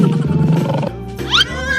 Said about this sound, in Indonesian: Lihat macannya itu besar-besar dan garang sekali.